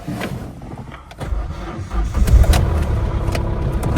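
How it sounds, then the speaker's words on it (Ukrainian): A 1.4-litre car engine cranks and turns over, rumbling louder as it catches and settles into a low idle, with faint clicks at the start. "Зараз спробуємо завести його, якщо батарея не сіла"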